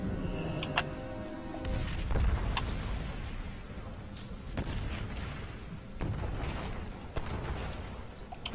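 Cannons boom repeatedly in a World of Warcraft battle, with several loud blasts and sharp pops spread unevenly over a busy, rumbling game soundscape.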